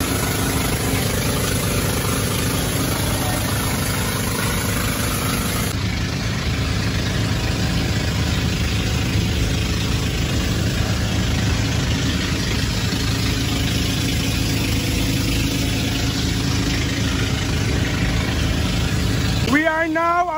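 A colorful island-hopping boat's engine drones steadily throughout off Siargao, a loud continuous rumble with a faint tonal whine, ending in a brief high squeal.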